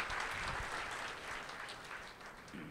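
An audience at a Mera Desh Meri Shan gathering applauds loudly, a steady dense patter of many hands clapping without pause, fairly close and full.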